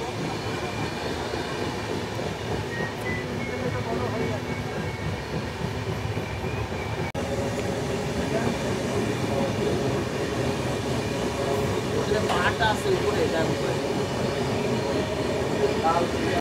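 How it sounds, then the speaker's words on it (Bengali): Heard from on board, a train runs through green forest on a journey from Kolkata toward Jaigaon, giving a steady rumbling rattle of wheels on track throughout, close and continuous, with a voice talking faintly under it. "এর মধ্যে দিয়ে যে ট্রেনটা যে পাস করা"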